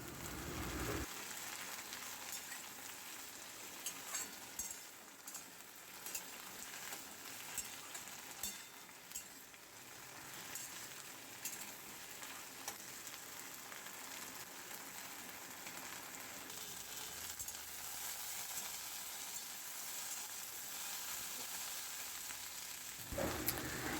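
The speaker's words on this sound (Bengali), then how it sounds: "ভেন্ডি, পেঁয়াজ, রসুন আর কালো জিরে ভালোভাবে কিছুক্ষণ নাড়াচাড়া করব, যতক্ষণ ভেন্ডিটা ভাজা না হয়ে যায়" Okra, onion, garlic and black cumin seeds fry in a pan, giving a steady, dense sizzle with scraping stirs throughout, close and unbroken, with no talking.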